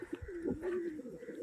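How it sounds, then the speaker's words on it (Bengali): Pigeons at a bird sale coo softly in low, throaty warbles that repeat and overlap at close range, with faint background murmur. "খুব সুন্দর চোখের পায়রা"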